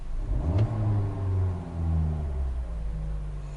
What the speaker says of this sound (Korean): 그리고 지금 엔진 소리 한번 들어보실까요?